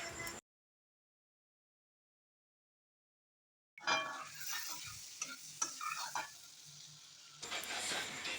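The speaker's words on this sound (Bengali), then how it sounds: "এক টুকরো বাটার আমি কড়াইতে দেব, দিয়ে আমি ব্রেডগুলো প্রথমে সেঁকে নেব একটু" Burger buns toast in melted butter in a wok (kadai) at home, sizzling and scraping softly up close after a stretch of silence, with faint stirring and pan clatter.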